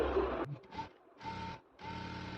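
A sewing machine stitches a folded fabric strip for cargo pants in short bursts of whirring, three separate runs with brief pauses between, close and fairly quiet.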